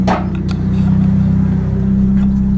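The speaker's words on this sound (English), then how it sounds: "And the car's not even warmed all the way up, but maybe it's because it's idling a little bit higher, but drops a little bit" A car engine idling steadily and loud up close after an IAC valve delete, a low rhythmic pulsing hum holding even throughout, with a short clunk or rustle at the start and no voices.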